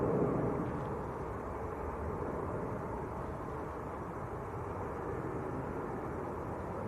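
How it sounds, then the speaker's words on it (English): A Lufthansa airliner in Star Alliance livery taxis at Manchester Airport, a steady low jet-engine rumble and broadband roar, moderately distant and continuous with no talk. "Also got Lufthansa in the Star Alliance livery, just taxiing out as well at the moment"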